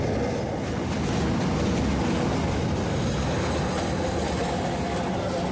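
A local train pulling out of Abada station gives a continuous loud rumble and rattle of rolling wagons, heard close from on board with steady wheel noise and no talk.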